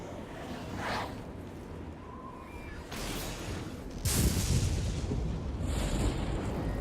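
A fireball spell explosion in the fantasy game Oblivion, a sudden loud whooshing blast with a roaring rumble that lingers as fire burns, heard close without voices.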